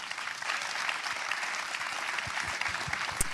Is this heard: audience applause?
yes